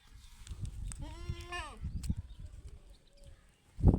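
A goat bleats once in a wavering, nasal cry close by, with people talking quietly around it and a brief rustle at the end.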